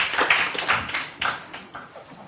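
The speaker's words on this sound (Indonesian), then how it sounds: "Tepuk tangan untuk mereka berempat." Audience clapping for the speakers at an Islam–Christian debate event, a short burst of scattered hand claps that fades over a couple of seconds.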